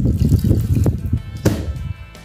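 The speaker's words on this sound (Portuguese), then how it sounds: "Um copo de água potável." A glass of drinking water splashes and gurgles as it is poured into a blender over apple and honey for ora-pro-nobis juice, close and brief with uneven sloshing.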